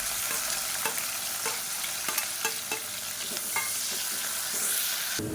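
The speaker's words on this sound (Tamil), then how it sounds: "இப்போ நல்லா பொரிய ஆரம்பிக்கவும் மீடியம் சைஸாக பெரிய வெங்காயம் நீளமாக நறுக்கிறத சேர்த்துக்கலாம்" Sliced large onions frying in hot oil with whole spices for a chicken biryani, stirred steadily with a spatula so scrapes and clinks land every half second or so over a constant close sizzle.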